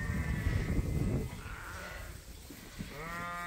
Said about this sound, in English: they're slowly getting more and more lambs eating at them